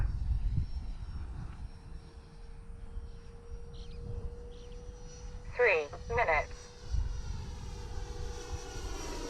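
An F-86 model jet flies on a very windy day, giving a steady, fairly distant turbine whine over gusty wind rumble. A brief burst of talk cuts in partway through.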